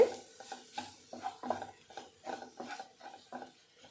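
A spoon repeatedly scrapes and stirs a thick onion masala with goat brain in a pan, in a steady rhythm of soft scraping strokes with faint sizzling.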